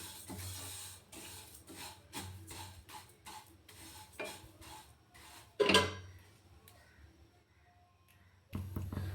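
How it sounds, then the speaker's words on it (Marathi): Fennel seeds being dry-roasted in a kadhai over a low flame, stirred with a spoon: a steady series of light scraping and clinking strokes against the metal pan, with one sharper clatter midway and a louder scrape at the end. "तर चला मग आता हे सर्व एक एक करून कढईमध्ये कमी गॅसवरती भाजून घ्यायचं। सर्वात पहिले सोप भाजून घेते।"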